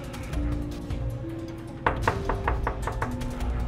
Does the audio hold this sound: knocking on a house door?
yes